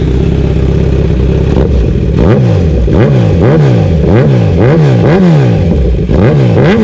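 A 2019 Kawasaki Z900 motorcycle with a full titanium exhaust revs loudly close up, idling and then blipping the throttle in a repeated rise-and-fall rhythm, with about six rapid revs in a row and no talking.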